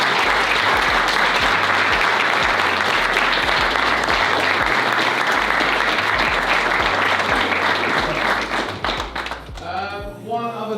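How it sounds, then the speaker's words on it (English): Sustained, loud applause from an office team, dense clapping throughout that thins out and fades over the final second. "round of applause to you guys."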